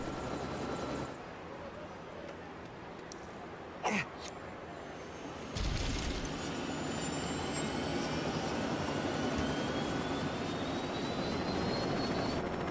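A LEGO Police Helicopter in the LEGO City Undercover video game flies with a continuous rotor and engine drone, a steady wash of noise that swells slightly partway through, with no talk over it.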